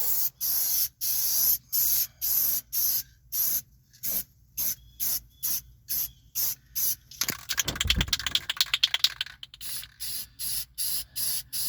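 A rattle can of spray paint hisses in steady short bursts with brief pauses, coating the carpet of a 1978 GMC C15 truck; the bursts are close and loud, with a longer continuous spray near the middle.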